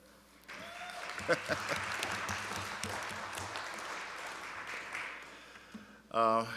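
Applause at a school board meeting, a steady patter of many hands clapping at moderate volume for several seconds, ending with a brief voice.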